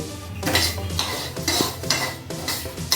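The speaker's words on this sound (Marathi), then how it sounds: "शिजण्यासाठी मी आता हे तांदूळ भाजून घेत आहे" Rice with cardamom dry-roasting in a pan for kheer, the spoon scraping and clinking against the metal in steady, rhythmic strokes about twice a second, close and fairly loud over a faint sizzle.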